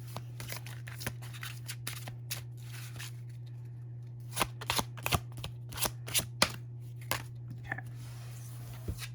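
Tarot cards being shuffled by hand, crisp riffling bursts that come in irregular clusters and grow more frequent in the second half, over a steady low electrical hum.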